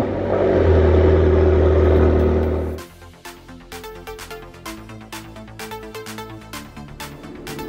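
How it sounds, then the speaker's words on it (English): Twin turbo Lamborghini Gallardo cold start: a loud, steady engine roar at high idle for nearly three seconds, then it drops sharply to a quieter, uneven idle with rapid ticking pulses. "All right, Christian, let her rip. Cold start"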